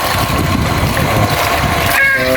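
A small 0.5-horsepower motor pump fitted to a hand water pump runs steadily, giving a dense, continuous mechanical drone with rushing water close by for the whole stretch.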